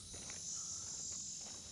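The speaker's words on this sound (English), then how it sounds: "I love the cicadas." Cicadas in a Florida garden make a continuous high, shrill buzzing drone that stays steady throughout, with faint background sound and no voices.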